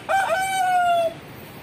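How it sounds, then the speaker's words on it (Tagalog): A rooster crows once by a river, loud and close, one long drawn-out call that stops abruptly. "May mga manok ng taba oh."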